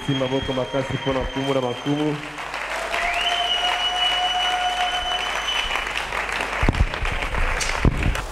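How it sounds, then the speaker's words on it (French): A church congregation applauds loudly during a Sunday service, a brief voice at the start giving way to sustained, dense clapping and cheering that fills the room for several seconds. "On acclame très fort pour le roi de Rome"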